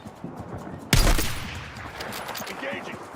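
Sudden burst of automatic gunfire in a military video game, a loud crack followed by a dense rattling fusillade that gradually thins out, with radio-style voices calling out orders around it.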